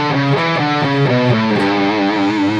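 Distorted electric guitar plays a quick Mixolydian lick over a dominant chord, a steady run of even sixteenth notes picked in three-note-per-string shapes, loud and close with no talking.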